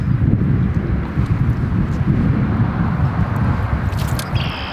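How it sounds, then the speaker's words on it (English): Strong wind buffets the microphone at a bluegill fishing spot, a loud continuous low roar with gusty swells and a brief faint clatter near the end. "The wind is like cutting right in my eyes right now."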